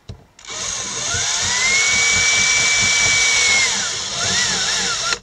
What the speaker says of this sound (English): I'm not even pre-drilling the holes. I'm just screwing right in.